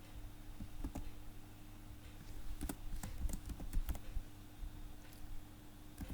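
Keys tapped on a computer keyboard while writing test code, irregular bursts of soft clicks close by over a steady low hum, with no talk.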